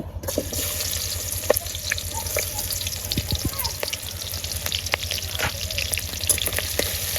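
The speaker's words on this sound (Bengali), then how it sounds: "তেলটা গরম হয়ে গেছে এখন আমি পেঁয়াজ দিয়ে দিব" Onions dropped into hot oil for a broken-rice dish, a dense continuous sizzle with scattered crackles and occasional stirring knocks, close and steady throughout.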